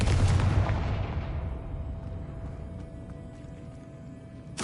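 The explosive Confringo spell in a video game bursts with a loud, deep boom, then rumbles away in a long fading decay, followed by a sharp pop at the very end.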